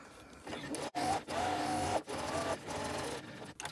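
A sewing machine stitches an appliqué onto a fabric bag, running in steady sustained bursts broken by a few brief pauses where the fabric is pivoted, close and fairly quiet.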